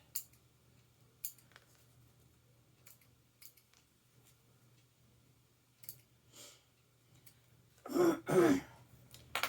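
Scissors snip through pieces being cut apart, two or three close, fairly loud crunching cuts in quick succession near the end after a long stretch of quiet with faint small clicks.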